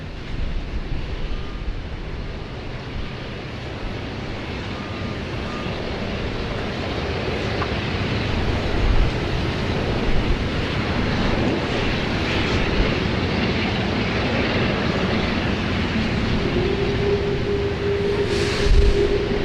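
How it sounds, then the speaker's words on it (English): An Emirates Boeing 777 airliner at Sydney Airport in rain produces a steady, broad jet engine roar throughout, loud and continuous with no voices. "we're going to be lucky enough to see an Emirates 777 hopefully depart"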